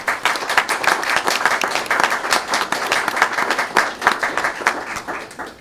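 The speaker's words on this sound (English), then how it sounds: "Let's give them a round of applause." An audience at an evening small business pitch competition claps together, a dense, even wash of applause held steady for several seconds before tapering off at the end.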